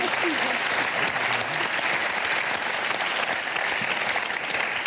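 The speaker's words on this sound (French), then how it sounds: "On l'applaudit hein. Très fort." A theatre audience applauding loudly and steadily, a dense wash of clapping that holds throughout with no break.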